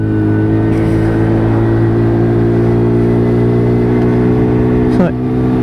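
A WK Colt 50cc motorbike engine under way, a steady nasal drone held close and loud throughout, with a brief pitch dip near the end.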